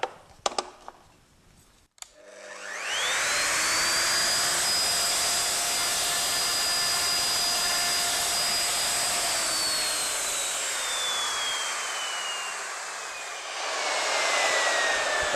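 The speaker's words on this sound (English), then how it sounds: "you feed the wood into the cutter, going against the spin of the blades" A router spinning in a WoodRat router table cuts wood fed by hand against the cutter's rotation: a loud, steady high whine that starts after a brief rattle and holds for over ten seconds, dipping slightly in pitch near the end.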